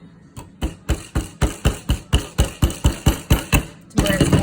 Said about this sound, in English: I like to try and use this little hammer here to try and like straighten it